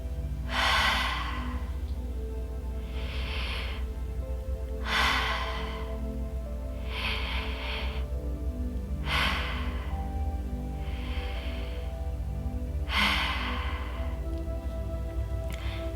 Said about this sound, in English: We're gonna do a little bit of breathing